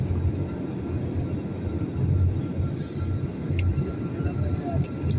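Steady, broad engine drone inside an airliner cabin cruising at 34,000 feet on a flight from Bangladesh to Doha, a continuous even roar with no breaks, close and moderately loud.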